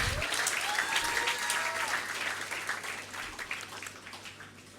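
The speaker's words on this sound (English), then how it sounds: "give one more round of applause to all of them" Applause from an audience at a university address following mention of an inter-university basketball championship, a dense, steady clatter of many hands that fades slightly toward the end, with a faint voice briefly audible early on.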